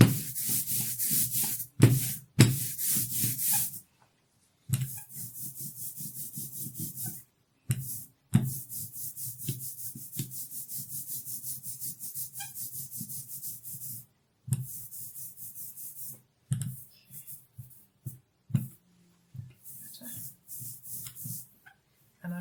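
An inked roller rolls back and forth over a linocut printing block in repeated tacky, rubbing strokes separated by short pauses, close and fairly quiet.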